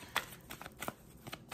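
Tarot cards being shuffled by hand: a quick series of soft, close riffling flicks and slaps over under two seconds, quiet overall.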